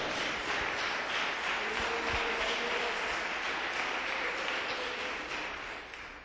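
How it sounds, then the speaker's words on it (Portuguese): A church congregation claps steadily in a sustained round of applause that fills the room, fairly even throughout before fading slightly at the end. "Dá uma salva de palmas para Jesus."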